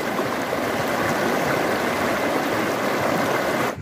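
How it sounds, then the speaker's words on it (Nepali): Cold, clear glacier meltwater stream in West Nepal rushing steadily over a sandy bank, a loud, even, continuous roar up close with no talking. "माथि ग्लेसियरबाट पग्लेको पानी आएको है यहाँ"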